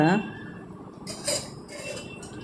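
A metal utensil stirs slowly in a cooking pot of ridge gourd set to boil, producing a few sharp clinks and scrapes against the pot, close and fairly loud.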